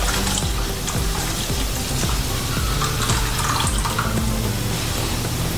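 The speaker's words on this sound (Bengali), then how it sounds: "এর মধ্যে আমি আগে যে টমেটো গাজরের যে জলটা করা ছিল এর মধ্যে আমি দিয়ে দিলাম।" Tomato and carrot stock pours into a pan, a steady close splashing rush of liquid that runs without a break.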